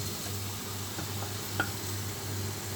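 A little garlic sizzles in a pan of leftover noodles, a soft, steady frying hiss with faint scrapes and one sharp tick, heard alone without voices.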